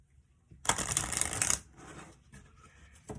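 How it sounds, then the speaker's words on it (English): A quick riffle of playing cards being shuffled, a dense papery flutter lasting about a second, followed by softer handling sounds and a final snap. "And shuffle the cards."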